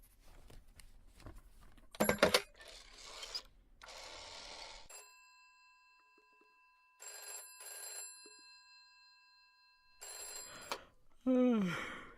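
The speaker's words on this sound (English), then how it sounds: "I just need to make one phone call and I'll be right out, okay?" A telephone rings in a repeated electronic bell pattern during a call in the police-management video game This Is The Police, with bursts of ringing separated by pauses and game sounds and voices around it.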